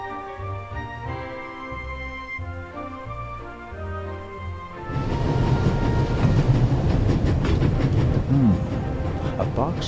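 A moving train in the video game The Raven Remastered rolls with a rumbling clatter that starts partway through, replacing soft music and continuing loud and steady to the end.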